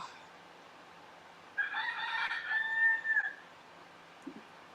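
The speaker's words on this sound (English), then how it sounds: "The rooster has spoken." A rooster crows once, fairly close and clear, a drawn-out crow of about two seconds set against a quiet background.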